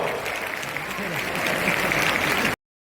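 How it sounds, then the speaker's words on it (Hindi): An audience at a government event in Hindi-speaking India claps its hands in sustained, dense applause that builds slightly before it cuts off abruptly, with a voice faintly audible beneath it. "हाथ से हम लोग निकाला बाहर और तनी गड़गड़ा के ताली मारा"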